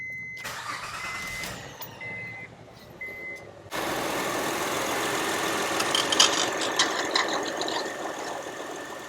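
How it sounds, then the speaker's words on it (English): A car's power steering pump starved of fluid at startup, giving a steady whine over the engine that grows louder and denser partway through, with no talk. "you might hear the sound it makes, the whining noise"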